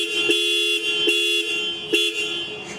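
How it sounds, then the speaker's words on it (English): Horn on a Royal Enfield Interceptor 650 motorcycle, a bright steady two-tone honk held across the whole span with three sharper pulses, close and loud. "Horn check."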